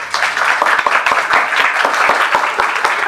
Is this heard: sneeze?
no